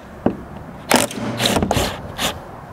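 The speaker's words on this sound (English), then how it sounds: "make sure you're supporting this as you pull the final bolt" A bolt is worked loose and pulled from a Ford Bronco tailgate assembly, close scraping, clicking metal and a few sharp clanks over a few seconds, with no talk.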